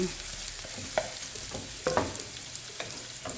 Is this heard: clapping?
no